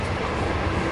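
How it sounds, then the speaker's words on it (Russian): A Chinese long-distance train on the 30-hour Xi'an to Urumqi route rumbles steadily along the rails, with a loud, continuous, close-up rolling noise and no pauses. "Я хочу, чтобы вы вместе со мной прочувствовали момент движения на китайских поездах на дальние расстояния."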